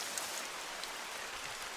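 In-game rain from the hunting game theHunter: Call of the Wild, set in Layton Lake District: a dense, even hiss of falling drops with faint pattering on surfaces, steady throughout and free of talk.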